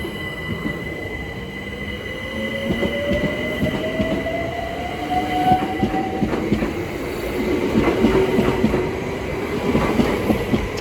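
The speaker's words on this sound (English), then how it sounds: "Now departing is the 1329 London Overground service from Crystal Palace to Hybri and Islington." A London Overground train departing Sydenham station on the Brighton Main Line pulls away with a steady rumble, rising motor whine and wheel clatter, continuous and fairly close throughout.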